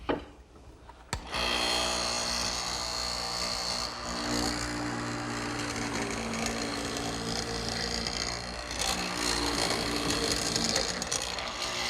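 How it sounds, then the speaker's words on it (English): A hollow chisel mortiser with a 1/2-inch square chisel and center drill bit bores a mortise in wood, a loud steady mechanical whir with grinding surges as it plunges in. "I'm going to use a tool that's dedicated to mortising."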